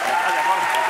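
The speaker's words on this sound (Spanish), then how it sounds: "un aplauso para Jorge" A studio audience on a Spanish late-night talk show claps for a guest named Jorge, a short burst of dense, even applause.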